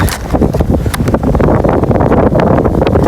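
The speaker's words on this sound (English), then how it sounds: "this wind is crazy" Strong gusty wind at a lake shore buffeting the microphone, a loud continuous roar with rustling bursts throughout, no voices.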